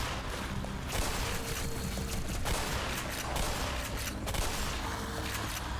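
Shotgun blasts in Black Mesa, repeated sharp bursts of gunfire scattered across a dense, noisy game soundscape, loud and close, with no clear spacing between shots.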